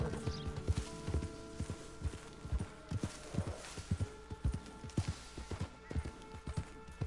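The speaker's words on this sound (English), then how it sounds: "Finally, my horse could walk right." Steady clip-clop of horse hooves at a walking pace in the video game Red Dead Redemption 2, evenly spaced and fairly close, with a faint background hum.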